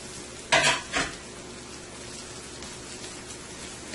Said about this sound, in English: And I will give this a toss. And let this fry for about another minute or two.